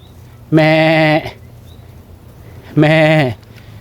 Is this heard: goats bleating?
yes